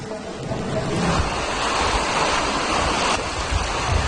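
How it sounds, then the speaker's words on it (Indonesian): High waves crash and roar continuously on the north coast of Karawang, West Java, a loud dense surf wash with wind buffeting the microphone and no voices. "Gelombang tinggi telah terjadi selama 3 hari terakhir."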